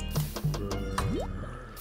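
Water flowing in the video game Minecraft, heard as a brief run of close, wet dripping and gurgling splashes with a rising bubbly trickle.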